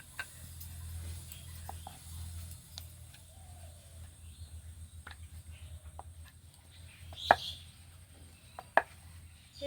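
A small dough ball dusted with dry flour is rolled thin with a rolling pin for a veg roll, giving faint, irregular wooden knocks and soft scrapes over a low steady hum, with no one talking.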